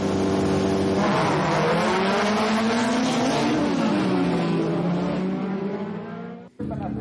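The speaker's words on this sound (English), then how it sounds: "It's noisy with the car engines and the commentary going on." Folk racing cars roar around a race track in Finland, engines revving and rising in pitch continuously with a dense, loud wash of motor noise, tire sounds and background commentary, ending with a sudden brief dropout.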